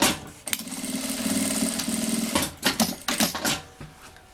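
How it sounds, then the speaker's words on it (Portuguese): A sewing machine stitches the side seam of a children's backpack, whirring in a steady run, then breaking into short, uneven bursts of stitching near the end. "E aqui eu passo uma costura."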